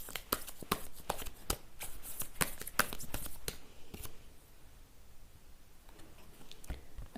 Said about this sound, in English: Okay, I will shuffle some oracle cards for you.